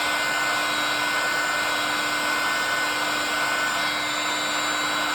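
Heat gun blowing steadily over resin on a wine glass, a constant close, loud airy whir with a fixed motor tone and no talking.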